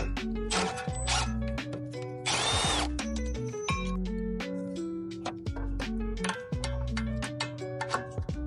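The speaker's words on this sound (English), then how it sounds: "Take off the caliper bracket bolts." Power tool bursts loosening the brake caliper bracket bolts on a 2012 Hyundai Sonata, several short whirring runs with rattling impacts, close and loud, with metallic clinks between them.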